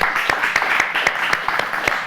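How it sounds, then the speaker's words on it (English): An audience in a hall gives a short round of applause for a lighting technician in the booth, scattered claps at moderate volume with a little talk mixed in. "A nice round of applause for Stephanie back there in the booth"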